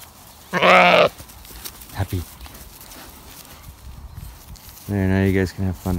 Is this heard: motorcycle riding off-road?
no